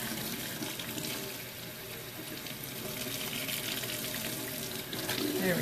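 Tap water running steadily into a sink as it heats up for cleaning, a continuous close hiss and splash that swells slightly toward the end.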